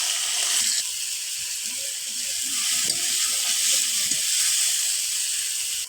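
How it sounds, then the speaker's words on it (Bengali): Mustard oil sizzling in a pan with garlic paste, mustard paste and green chilies after fried fish, with a splash of water added; a steady, loud hiss of steam and sizzle runs throughout with faint clinks underneath. "হালকা একটু জল দিয়ে দিলাম মশলাটা কষার জন্য।"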